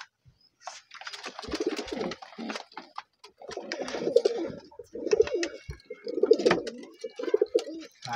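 Pigeons coo at a pigeon farm in repeated soft, throaty bursts, several birds near and clear, with short gaps between calls.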